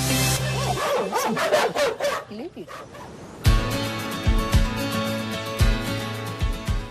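Dogs bark repeatedly, loud and close, in short uneven bursts that continue over a steady musical background.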